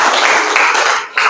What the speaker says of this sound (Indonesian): beri tepuk tangan untuk Raihan Vicky ya